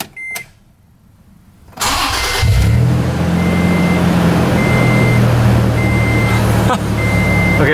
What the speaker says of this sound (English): I got it to turn over instantly and then shut off